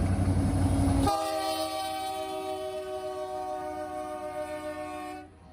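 Norfolk Southern NS 174 led by locomotive NS 1066 sounds a long, steady, loud horn blast after a brief rumble, holding several seconds before cutting off abruptly, with no voices.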